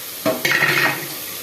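Pulao ingredients with a little coriander powder fry briefly in a home kitchen pan, a short burst of soft sizzling and scraping stirring that fades after about a second, with no talking.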